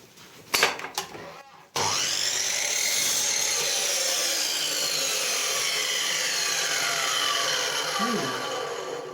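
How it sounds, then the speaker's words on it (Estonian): A few sharp knocks, then a saw cuts steadily through wood in one long, continuous grinding stretch, loud and close. "Kiilul saeme selle otsaga maha, et oleks teda parem välja lüüa selle toru seest"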